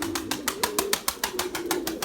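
Pigeons released into the air in a flock, with a rapid, even train of wingbeat flaps close by and faint cooing underneath, no voices.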